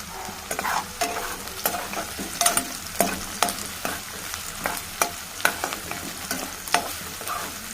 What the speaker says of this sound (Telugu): ఇప్పుడు ఆనియన్, పచ్చిమిర్చి వేసాము.